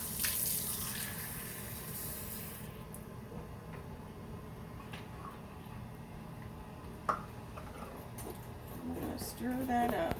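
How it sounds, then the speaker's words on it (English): Tap water runs into a measuring cup in a kitchen, a soft, steady trickle and splash at close range with a brief clunk partway through, under quiet background noise. "We're going to get our 2/3 cup of water."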